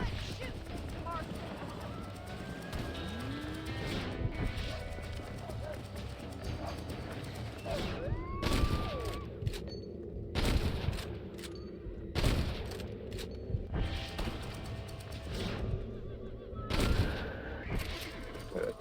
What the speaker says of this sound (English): Let's shoot, Mr. Marston.